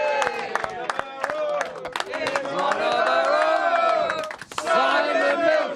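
A live crowd claps, cheers and chants loudly to welcome a special guest, with strong rhythmic singing and shouting voices over sharp claps, briefly dipping before surging again.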